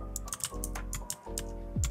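Typing on a computer keyboard while coding a Discord.js slash command handler: rapid key clicks in uneven bursts over about two seconds, close and clear, with no talking.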